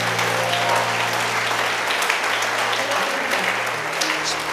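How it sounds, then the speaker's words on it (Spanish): Church congregation applauding during a Sunday sermon, steady dense clapping filling the room for several seconds with a sustained low musical tone beneath it. "Denle un aplauso a Jesús si quiere."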